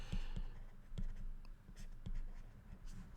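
Chalk or marker writing equations on a board during a physics tutorial, a run of close tapping and scratching strokes coming in short bursts with brief pauses between.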